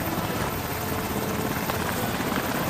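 A helicopter flies close overhead, its loud, steady rotor roar filling the whole stretch without letup.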